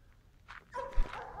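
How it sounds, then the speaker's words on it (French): A dog that wants to go for a walk barks a little: a couple of short close yips and whimpery barks, moderately loud, with no talk over them. "le chien qui est, quand il me voit, qui veut aller marcher, qui aboie un petit peu"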